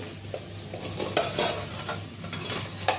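Okra frying in a pan makes a close, steady sizzle, broken by repeated utensil scrapes and clinks against the pan as it is stirred.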